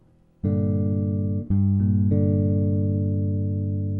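A bass guitar chord rings out, built note by note: a low root, then the third and fifth joining, sustained and clean with no talking.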